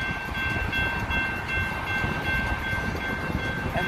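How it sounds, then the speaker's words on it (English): A Union Pacific intermodal freight train with a BNSF unit rumbles steadily nearby, its low clatter continuous while a sustained horn tone sounds throughout. "There's a BNSF unit on this intermall train behind us."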